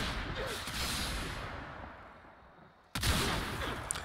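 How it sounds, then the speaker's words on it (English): Tombfinger gun fire in the game Warframe: dense, noisy bursts of shooting that fade over a couple of seconds, then a sudden loud burst resumes, with no talking over it. "we'll just shoot this guy with a Tombfinger"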